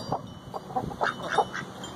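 Backyard chickens in a small dirt corner give a string of short clucks and squawks, several birds close by, with irregular bursts over a quiet background.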